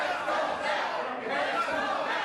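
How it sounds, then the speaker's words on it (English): A divided crowd at an APW independent pro wrestling match keeps up a dense, continuous wash of cheering and chatter, with shouts and murmurs blending together. "you can hear this crowd split right down the middle, just as they've been the entire matchup"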